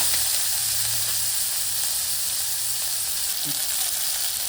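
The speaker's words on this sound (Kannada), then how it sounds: "ಮೀಡಿಯಮ್ ಆಗಿ ಈರುಳ್ಳಿ ರೋಸ್ಟ್ ಆದಮೇಲೆ ನಾವು ಟೊಮೊಟೊ ಹಾಕೋಣ" Tomato frying with roasted onion in a pan for a mutton head sambar: a steady, fairly quiet sizzle and hiss with a soft stir or two, and no talk.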